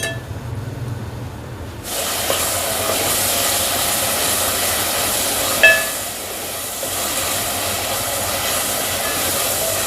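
Onions and tomatoes frying together in oil for a ridged gourd curry, a loud continuous hiss and sizzle, close up, that swells after a quieter start and holds steady.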